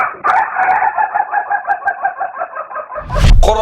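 A sick rooster gives a long, pulsing, strained crow up close, ending in an abrupt harsh burst like a cough.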